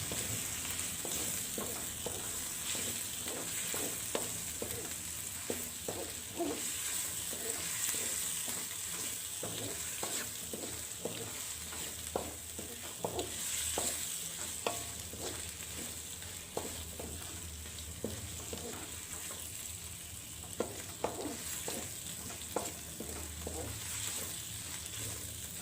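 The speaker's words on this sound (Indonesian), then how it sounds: "Kemudian lanjut lagi saya aduk-aduk sampai semuanya benar-benar matang dan wangi." Rendang spice paste with cinnamon, bay leaf, lemongrass, kaffir lime leaf and galangal sizzles steadily in a pan while a utensil scrapes and stirs it in irregular strokes, close and continuous.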